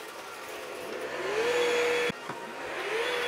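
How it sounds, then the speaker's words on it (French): An Ecovacs X9 Pro Omni robot vacuum cleaner starts up, its motor whine rising in pitch and settling into a loud, steady suction hum with a brief dip partway through. "Et je lance l'aspiration. Commence à passer l'aspirateur."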